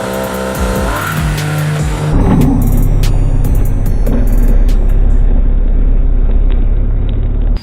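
A Volkswagen Golf R launches hard under launch control, its engine building from a steady idle into a loud, sustained full-throttle roar that holds close and strong for several seconds.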